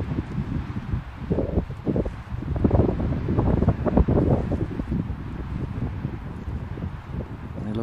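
Strong wind roars and buffets against the microphone continuously, gusting louder in the middle, with a low rumbling rush and no voices.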